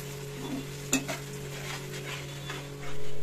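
A spoon scrapes and stirs chilli cauliflower with soy sauce in a pan, giving a few distinct clacks and scuffs over a soft sizzle, close up, with a steady hum in the background and no speech.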